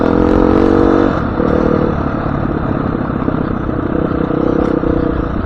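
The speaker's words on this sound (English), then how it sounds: "Second gear, chug, chug, chug. Yeah, this bike chugs really good." Motorcycle engine chugging along in second gear at low speed, a loud steady rumbling throb with slight lurching changes in tone, close and continuous with no talk.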